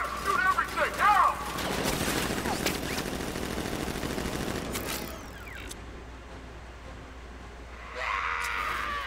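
Rapid bursts of automatic gunfire in Batman: Arkham Knight, loud and continuous for the first few seconds, then fading into quieter mechanical game sounds with a brief swell near the end.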